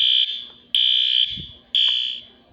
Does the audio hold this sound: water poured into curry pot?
no